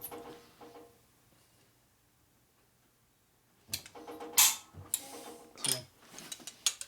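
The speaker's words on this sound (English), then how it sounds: "Trust that damn torque wrench" Torque wrench on a 1961 Harley-Davidson FL 74ci panhead motor rebuild gives a few sharp mechanical clicks and ratcheting bursts in a quiet workshop, close and fairly loud after a long near-silent pause.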